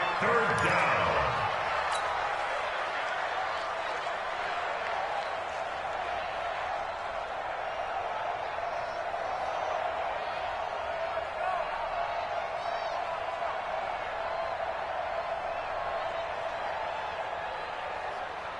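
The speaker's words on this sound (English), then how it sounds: "the crowd getting into it as we come up on a big 3rd down" Stadium crowd noise from an American football video game on PS4, a steady, loud roar of cheering that swells around a big third down and holds throughout.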